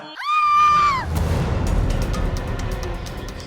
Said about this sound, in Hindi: ये किसकी चीख थी?